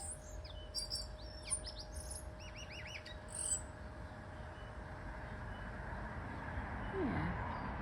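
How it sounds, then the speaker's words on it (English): Birds chirp and trill in several short bursts during a winter walk around a Quaker settlement in Whanganui, Aotearoa, fairly faint over a steady outdoor hum, fading out after the first few seconds. "It's nice to hear the bird song."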